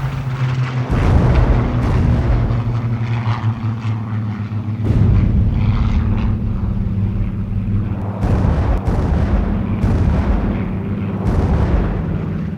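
Rocket-firing Typhoon and P-51 aircraft attacking, loud roaring engine drone with heavy booming blasts and rumbling explosions recurring through the scene, no speech.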